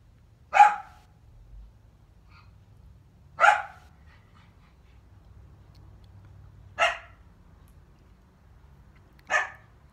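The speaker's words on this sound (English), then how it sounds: "we'll have the dogs barking" A dog barks four times, single sharp barks spaced a few seconds apart, over a low steady background hum.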